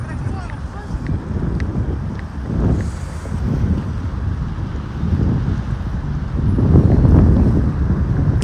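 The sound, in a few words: wind blowing into the microphone on a street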